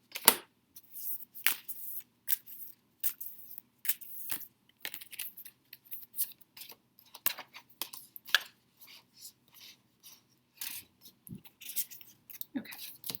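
Oracle cards drawn from a deck and laid face down: a scattered series of close, crisp card slaps, shuffles and rustles in irregular bursts with quiet gaps between them.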